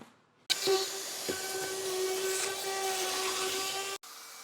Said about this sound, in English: now I'll go around all these with the router bit